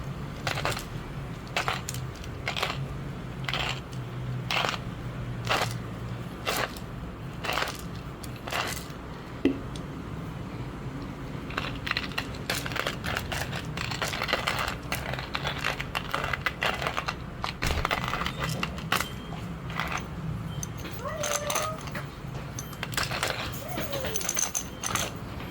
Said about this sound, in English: you'll hear that it's actually doing its job of grinding the coffee